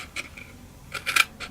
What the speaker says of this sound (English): finish trimming it off afterwards with your scissors